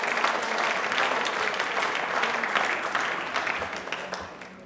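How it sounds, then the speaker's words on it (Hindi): Audience applause at a question-and-answer programme marking Ambedkar Jayanti, a full, steady round of clapping that tapers off slightly at the end. "एक बार तालियां सर के लिए और हम सब के लिए जोरदार होनी चाहिए।"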